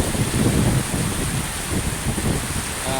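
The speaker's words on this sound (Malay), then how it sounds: "tengah dilanda hujan deras beserta angin yang sangat tegar" Heavy rain driven by strong wind during a storm in Aceh, a dense continuous roar with gusty swells and buffeting on the microphone, loud and close with no voices.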